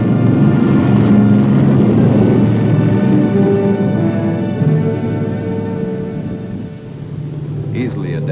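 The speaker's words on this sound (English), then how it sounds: "Taking off is the R-4D, one of the original Antarctic workhorses of the air." An R-4D aircraft taking off in Antarctica, a loud, steady engine drone and rumble that slowly eases, with a voice speaking over it.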